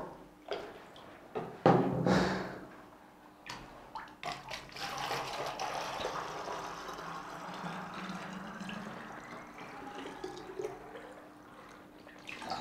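Water pours from a bottle into a jerrycan with a sustained, gurgling stream that rises in pitch as the container fills, preceded by a few handling knocks.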